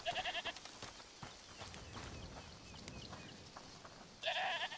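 A goat bleats in a video game set in a medieval world, short wavering calls at the start and end, fairly faint over soft ambient background noise.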